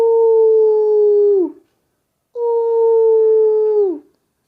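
A jackal in a forest on a moonlit night gives two long, loud, steady howls, each ending in a falling tail, separated by a brief silence.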